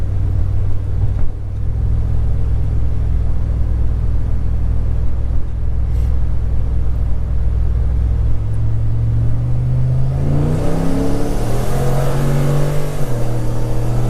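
A turbocharged 2012 Chevy Caprice cruising with a low steady engine drone, then floored at full throttle, downshifting and climbing into a loud rising roar with shifts heard inside the cabin, no talking.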